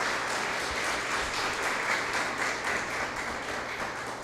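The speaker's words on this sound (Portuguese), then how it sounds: "Vamos aplaudir o Senhor, por favor, dê um louvor de palmas." A church congregation applauds in praise, a dense, steady wash of many hands clapping together, loud and continuous throughout with no voices over it.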